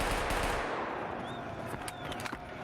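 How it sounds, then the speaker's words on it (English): Saiga 12 shotgun fired unsuppressed in a competitive video game match, loud booming blasts layered with other gunfire in a dense, continuous barrage. "Vonza taking out Goes with that Saiga 12. It has such a dominating sound to it there. It is not suppressed."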